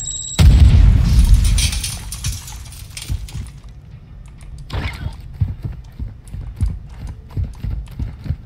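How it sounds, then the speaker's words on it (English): A Semtex grenade in Call of Duty MW2 DMZ goes off with a heavy, booming blast near the start, followed by a rumbling tail and scattered thuds and clatter as debris and footsteps settle. "Throwing Semtex!"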